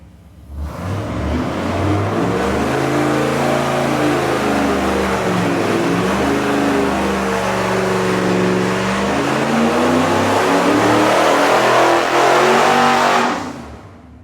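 An engine fitted with Ardun heads revs hard on a dyno, pulling steadily upward in pitch over a long sustained run before cutting off near the end, loud and close with no speech.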